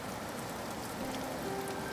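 Steady rain falls on a street in an animated story, a continuous even patter of drops on surfaces, moderately loud with no voices.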